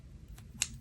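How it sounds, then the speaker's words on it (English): Scissors snipping a piece of washi tape into a flag shape, a faint soft swish followed by one crisp close snip over quiet room noise. "Just gonna cut this piece into a flag"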